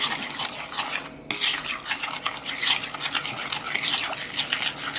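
Brown sugar is stirred into a vegan apple cake batter to break up clumps, a steady scraping and swishing of a utensil against the mixing bowl, close and continuous for several seconds.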